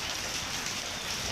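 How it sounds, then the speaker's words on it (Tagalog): Steady rain starting to fall outdoors, a dense even hiss of drops with no clear individual impacts, moderately quiet and continuous throughout. "Umumpisa na pong umulan, no."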